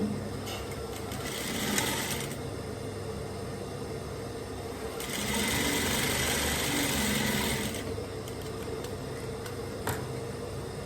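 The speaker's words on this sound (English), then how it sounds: "Sew this side also." Sewing machine stitching a bomber jacket, a steady mechanical whir that swells in two longer runs and eases between them, with no voices.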